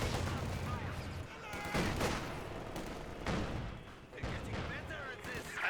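Incendiary rounds and other gunfire in a Company of Heroes 2 battle, heard as repeated bursts of distant-sounding shots and booms over a busy rumble of combat, with a voice talking over it.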